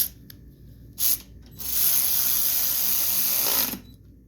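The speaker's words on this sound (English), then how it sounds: "so I'm going to go ahead and tighten all four of them down" Hand ratchet clicking as four plastic gas tank bolts are tightened on an 8 horsepower Yard Machine front tine garden tiller; a few short clicks, then a longer continuous burst of ratcheting, close and loud.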